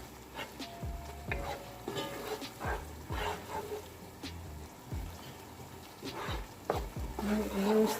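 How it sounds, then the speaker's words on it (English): Crayfish frying in hot oil in a pot for seafood okra soup, stirred with a spoon: soft sizzling under repeated scraping stir strokes, close and moderately loud, with low knocks against the pot. "I just want the crayfish to infuse inside the oil. Just give it a little stir."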